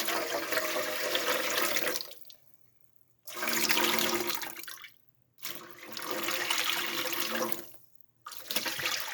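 Liquid poured through a strainer into a bowl at a kitchen sink, heard as three steady splashing runs broken by short silent pauses, close and fairly loud.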